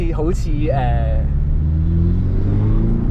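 A 2018 Porsche 718 Cayman S turbocharged engine revs briefly, then settles into a deep, steady rumble close by, with a low throaty drone continuing.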